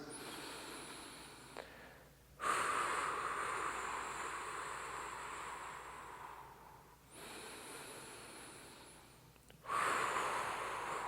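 Slow, deep breathing held through a standing dancer's yoga pose, two long airy exhalations each rising sharply and trailing off over several seconds, close and steady over a soft background hum.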